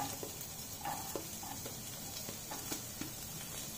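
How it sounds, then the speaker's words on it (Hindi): Chopped onion, garlic and ginger sizzle steadily in a pan, with a soft hiss throughout and scattered light clicks and taps from stirring, faint and alone. "अब इसे हम थोड़ा सा सौते करने के लिए मिक्स करेंगे।"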